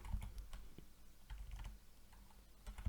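Someone types on a computer keyboard while searching for PC motherboards, with quick irregular bursts of close key clicks and short pauses between words and no talking.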